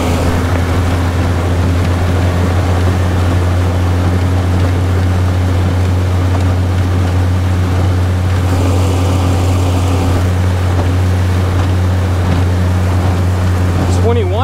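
Wright Water 12 skiff motorboat running at full throttle around 21 mph, a constant loud, even engine drone with hull and wind noise throughout, no letup.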